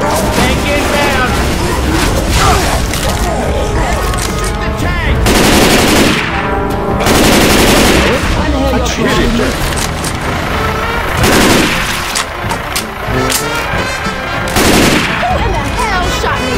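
Rapid automatic gunfire and shotgun blasts from survivors shooting at the Tank in Left 4 Dead 2 on The Parish, in loud dense bursts throughout, mixed with game music, shouted character voices and heavy impacts.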